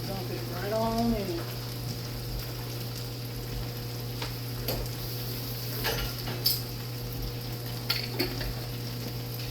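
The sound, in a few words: spaghetti sauce dumped into pan with pasta, sizzling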